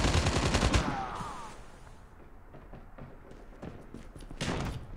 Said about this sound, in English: Freaking shotgun, dude.